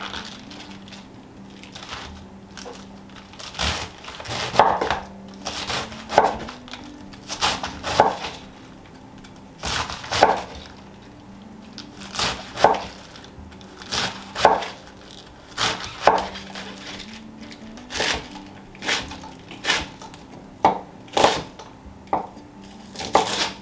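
A kitchen knife chops through part of a head of cabbage on a cutting board, making crisp, fairly regular strokes with short pauses between bursts. The cuts sound close and clear, with no talking.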